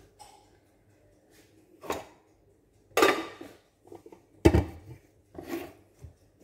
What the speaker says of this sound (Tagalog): isasalang ko na yung kawali.